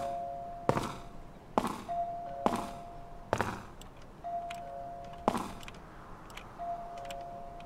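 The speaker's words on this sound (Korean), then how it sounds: "초인종 소리 나는 것 같은데?" A doorbell rings in the Ju-on: The Grudge horror video game, several short sustained electronic tones repeating at irregular intervals, mixed with sharp thuds and clicks against a quiet, dark ambience.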